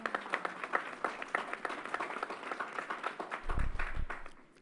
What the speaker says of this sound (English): Let's give New York State a round of applause.